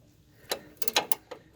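A wrench works a bolt on a 1974 VW Super Beetle pickup, giving a few sharp metallic clicks and ratcheting snaps in quick irregular bursts, close and fairly quiet.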